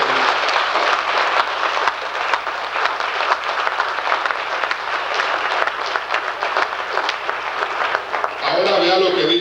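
A church congregation in Dallas, Texas, claps in sustained, dense applause for several seconds, ending abruptly as a pastor's voice resumes.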